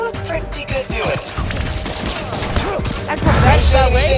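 Rapid bursts of gunfire mixed with impacts and crashes fill a combat scene in the video game Marvel's Spider-Man, dense and loud over a few seconds with game effects layered throughout.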